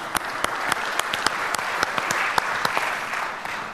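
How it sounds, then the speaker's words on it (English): Audience at a tech conference session giving a round of applause for the engineers, sparse distinct claps over a steady room murmur, moderately distant. "Let's give the engineers a big round of applause"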